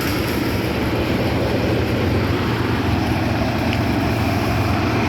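A Fong Hwin (Thanu Thong) rice threshing machine engine running at a steady, loud, continuous drone with constant low rumble and no talk, heard close by.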